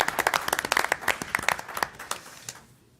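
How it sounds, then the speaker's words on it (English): Applause from the audience at a town council meeting: a burst of brisk hand clapping, fairly close, that thins out and fades to quiet within about three seconds. "So if we could give Mr. Ed Ciccarello a round of applause for being a rock star this year."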